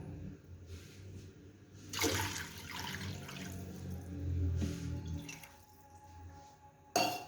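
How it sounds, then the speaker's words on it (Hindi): Water poured from glasses into a pot of rice being cooked with buttermilk for jaggery rice, a steady close splashing pour swelling midway, then tapering off. "अब 2 गिलास पानी के डालेंगे।"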